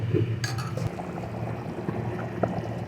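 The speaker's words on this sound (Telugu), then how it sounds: "ఇంకా 1 లీటర్ వరకు నీళ్ళు పోసేసుకోవడమే" Water poured into a pressure cooker of country chicken curry in a village kitchen, a close splashing gush with a faint clink of metal.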